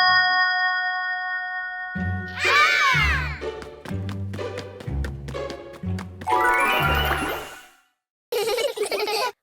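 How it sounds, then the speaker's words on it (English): A cartoon mystery sound box gives off bright ringing tings, a bouncy boing and a run of quick plucked and chiming hits, followed by a short burst of childlike giggling, playful and close. "the box makes a cheerful boing sound"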